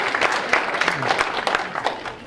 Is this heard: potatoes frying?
no